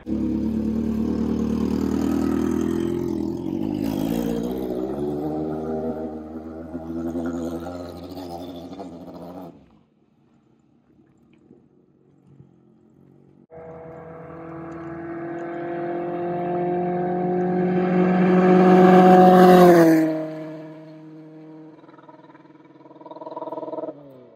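An engine on a Smart car sleeper build, fitted with a brand-new chain and running nearly out of fuel, revs hard and loud in two long pulls separated by a brief idle lull, with strong rising tones.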